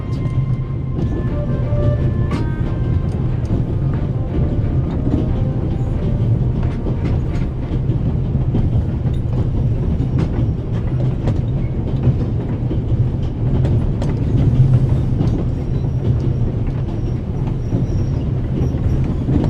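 A moving train aboard the Orient Express in the video game The Raven Remastered: a steady low rumble of rolling carriages with faint clicks and brief squeals, continuous and even throughout, with no talk.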